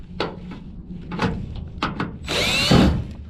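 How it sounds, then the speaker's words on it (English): A power drill fitted with a drill bit runs in short bursts at a chicken coop, with a longer, louder whining spin near the end amid some handling knocks. "I have the correct drill bit now."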